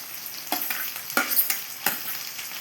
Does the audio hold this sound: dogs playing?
no